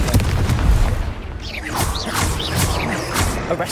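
Confringo fire spell blasts in the Hogwarts Legacy video game, a loud booming burst with crackling impact and whooshing sweeps over dense combat noise, several hits overlapping across the stretch.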